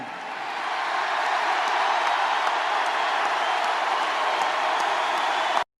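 A political rally crowd cheering and applauding in one dense, steady roar that holds at an even loudness for several seconds, then cuts off abruptly.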